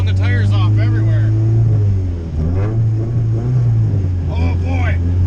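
A Honda CRX beater car accelerates hard with tires spinning, its engine droning loud and steady with a rising, shifting pitch, close up from inside, with a voice talking over it.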